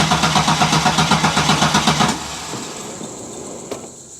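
A Holden VR Calais engine turns over with a rapid, even chugging rhythm for about two seconds, then stops, leaving a quiet hum with a faint click near the end.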